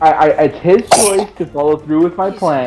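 One quick sneeze bursts out amid steady conversation at a tabletop role-playing session, brief and sharp between stretches of talk.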